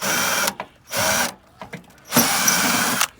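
A power drill backs out rusted, galvanically corroded screws where an ice machine used to be installed, giving three short, loud whirring bursts separated by quiet pauses, with faint clicks between them.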